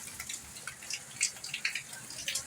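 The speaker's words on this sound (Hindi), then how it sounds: "और छत भी हमारी टपकना शुरू हो गई है।" Rainwater dripping through a leaking roof during heavy rain, a quiet scatter of irregular soft drips and small splashes close by, with no talk.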